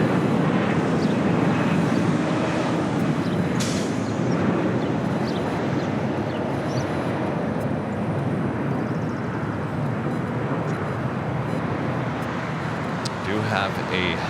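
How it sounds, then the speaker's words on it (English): An Avianca Airbus A320 in El Salvador livery touches down at LAX on the south side, a steady broad engine and airframe roar with wind buffeting that holds loud throughout, a voice talking over it. "Avianca in the Surf City, El Salvador livery coming in from Guatemala City in A320,"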